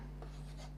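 Chalk or marker scratches briefly across a board while math is written, two soft strokes over a steady low electrical hum.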